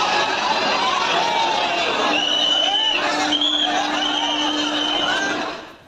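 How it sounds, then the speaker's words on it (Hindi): Dense crowd of passengers at Surat railway station, a continuous hubbub of many voices with whistles and calls rising over the babble, steady and close throughout before fading at the end. "सूरत रेलवे स्टेशन की तस्वीर आप देख रहे हैं, ये भारी भीड़, जिसे ट्रेन में चढ़ना है"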